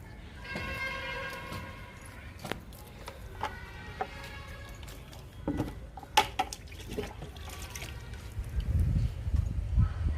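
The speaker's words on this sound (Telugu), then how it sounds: "సపోటా మొక్కకి ఇస్తున్నాను లిక్విడ్." Liquid fertilizer poured from a can onto a potted sapota plant, splashing and trickling in uneven bursts close by, with a person talking during the pour.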